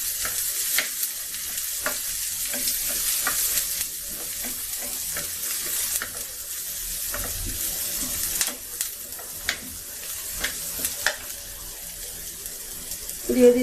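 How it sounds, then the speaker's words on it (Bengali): Garlic and onion frying in a pan, a steady soft sizzle with scattered clicks from stirring and a faint running-water hiss, near and moderately loud. "রসুন আর পেঁয়াজটাকে আমি ভালো করে ভাজবো"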